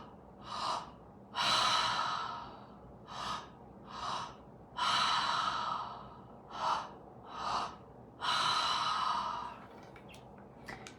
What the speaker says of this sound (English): Keep it going, fully in, fully out.